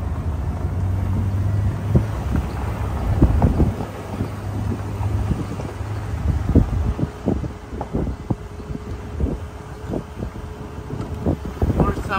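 A Jeep's engine exhaust gurgles in water while the vehicle idles submerged, giving a steady rumbling low drone with irregular bubbling pops, close and continuous under wind buffeting.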